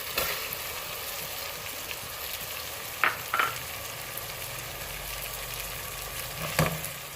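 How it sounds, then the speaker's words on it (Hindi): Minced meat frying in a pan with melted tomatoes and spices, a steady low sizzle throughout with a few sharp clinks of stirring near the middle and end. "जब तक ये पूरा वाइट नहीं हो जाता, इसको इन मसाले के साथ थोड़ा सा हम भूनेंगे।"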